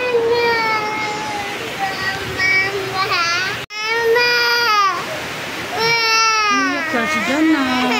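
A baby cries close by in repeated rising wails, with a brief pause midway before the crying resumes.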